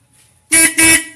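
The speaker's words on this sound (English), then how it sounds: "This is a factory Roadrunner horn." A factory Plymouth Roadrunner car horn sounds two loud, close honks in quick succession, the second slightly longer, following a brief quiet moment.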